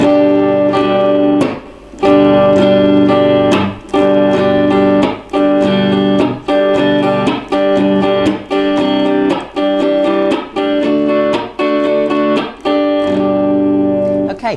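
Rhythmic acoustic guitar strumming with a repeating pattern of down and up strokes, punctuated by sharp percussive chops, close and steady without talk.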